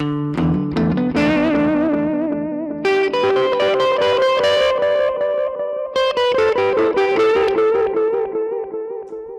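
Electric guitar through a Yamaha THR amp with an echo effect, plucked melodic notes and chords ringing out with repeating tails that overlap and sustain, fairly loud with no voices.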